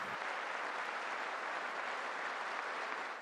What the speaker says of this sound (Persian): دموکرات‌ها هم رئیس جمهوری آمریکا را تشویق کردند